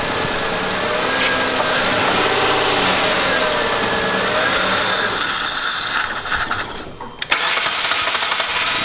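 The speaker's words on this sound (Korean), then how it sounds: "시동을 걸어주세요. 가속 페달을 1100rpm 정도 유지시켜 주십시오." An LPG or gasoline car engine held at about 1100 rpm with the throttle-body intake hose disconnected, a steady loud running hum with hiss that briefly dips and shifts near the end.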